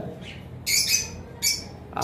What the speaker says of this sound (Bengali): এইখানে দেখতে পাচ্ছেন একটা পেয়ার ইয়েলো সাইডেড কোনোর রয়েছে,